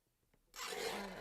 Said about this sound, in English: this is a swing line guillotine trimmer